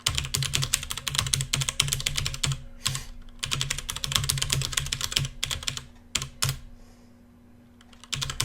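Fast, dense typing on a computer keyboard comes in long bursts of clattering keystrokes, close and fairly loud, broken by short pauses and a quieter gap near the end, with no voices.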